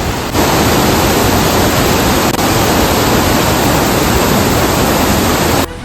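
A river in heavy Konkan monsoon rain, swollen into rushing floodwater: a dense, unbroken roar like a waterfall, very loud and close, constant from start to finish with no voices.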